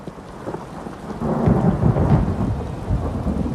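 A thunderstorm rumbles, and a low roll of thunder swells in the middle over a steady wash of rain, with no voices.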